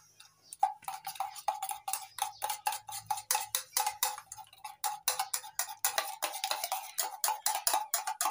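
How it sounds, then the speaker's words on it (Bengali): A broken egg is beaten briskly with a fork, giving a fast, steady run of light clicking taps against the dish for several seconds, close and fairly clear, with no talking. "ভেঙে নেওয়া ডিমটা ভালো করে ফেটিয়ে নিচ্ছি।"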